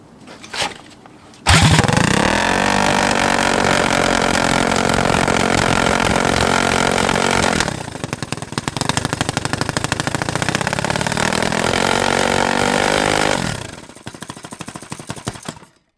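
A fully built Predator 224 small engine that smokes heavily catches after a short pull and roars loud and close, its pitch dropping at one point before it revs on steadily and then shuts off.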